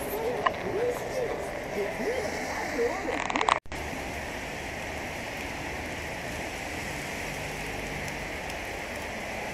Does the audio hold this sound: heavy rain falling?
yes